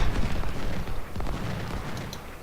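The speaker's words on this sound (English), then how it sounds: "Lots of artillery shots have been coming in." Booming artillery fire from a Civil War battle video game, a dense rumbling barrage of overlapping cannon shots and blasts that stays loud and continuous throughout.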